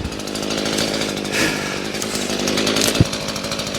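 A STIHL MS 162 small chainsaw runs steadily at high revs, loud and close, with a continuous buzzing drone and one brief knock near the end.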